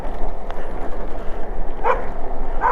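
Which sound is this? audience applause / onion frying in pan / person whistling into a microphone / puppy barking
puppy barking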